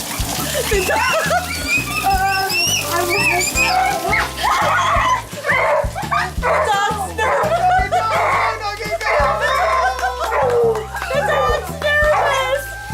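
A nervous dog barks and yips outdoors in rain on a driveway, short repeated barks scattered among children's excited voices and chatter close by.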